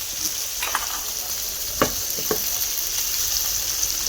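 Pomfret fish sizzle steadily in a frying pan on a home stove, and a few sharp clicks and scrapes from a utensil turning or stirring them cut through the hiss.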